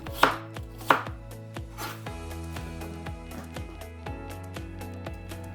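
A knife cuts green and red apples into thin slices, giving two sharp opening chops followed by a steady run of lighter, regular cuts. Soft background music plays beneath.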